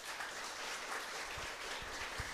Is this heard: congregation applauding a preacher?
yes